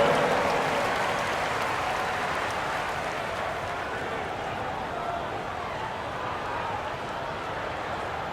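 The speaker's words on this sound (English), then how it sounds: "Round of applause for your Kenneth Clippers" Steady applause from a large NBA arena crowd at a Clippers vs Thunder game fills the space, a broad wash of clapping that holds at a constant level for several seconds.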